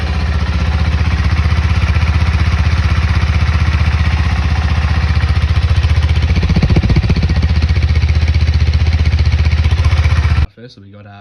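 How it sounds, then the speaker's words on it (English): A KTM 390 Adventure motorcycle with its stock exhaust runs at a steady idle, loud and close, its even engine drone continuing for about ten seconds before cutting off abruptly. "So we'll start it up here and we'll see what it sounds like"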